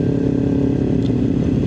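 A motorcycle ridden in a group charity ride in Penang runs at a steady drone, a loud close engine rumble with a thrumming low pulse throughout the short stretch, no talking.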